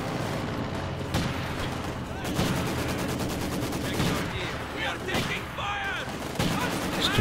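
Dense wartime gunfire from Company of Heroes 2 in a winter battle: rapid rattling bursts and sharp cracks repeat across the whole stretch, some near, some distant, with someone talking quietly beneath the combat.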